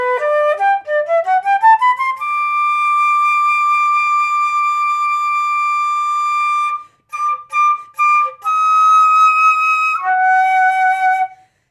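A Mozart passage starting at bar 37 is played solo, with a rising run into long sustained notes, then a group of separated mezzo staccato Ds, then held tones, with no talking.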